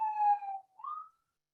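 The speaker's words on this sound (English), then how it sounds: "I'm so sorry for the sirens." A police siren outside gives a single short wail that dips in pitch, pauses briefly, then rises again before cutting off, fairly clear and alone.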